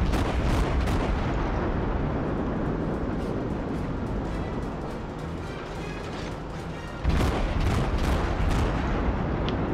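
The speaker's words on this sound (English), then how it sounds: "That ought to be a good volley." Warship gun volley in the naval combat game World of Warships: dense, roaring gunfire and booming blasts fill the whole stretch, with a louder fresh salvo crashing in near the end.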